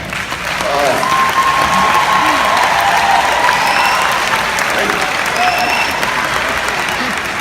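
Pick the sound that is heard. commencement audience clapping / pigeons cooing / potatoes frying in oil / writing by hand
commencement audience clapping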